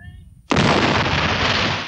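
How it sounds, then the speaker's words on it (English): IRA car bomb explosion in archival news footage: after a quiet half second, a sudden loud broadband blast erupts and rolls on as sustained roaring rumble and debris noise to the end. "Media coverage of these spectacular explosions brought them wide attention."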